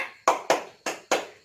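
Four sharp hand claps in an uneven pattern, the second following closely on the first and the last two spaced apart, close and crisp against a quiet room.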